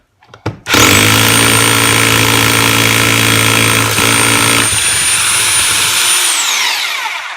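A Topshak portable rotary hammer drill starts up and drills steadily at close range, a loud continuous whine with a rough grinding body, then winds down near the end.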